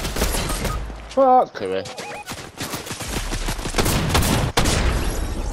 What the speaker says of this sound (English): It's a fucking drum gun.